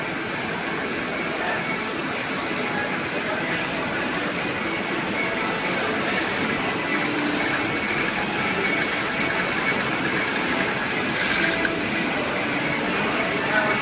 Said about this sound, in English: this is a Picotting machine